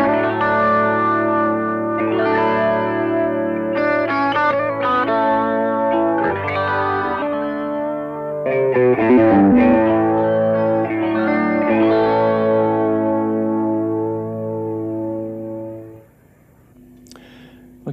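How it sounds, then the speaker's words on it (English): Electric guitar is played through a phaser pedal, melodic sustained notes and bends sweeping with a swirling, chorus-like shimmer and echo, loud and continuous for most of the passage before fading. "This is with the phaser in."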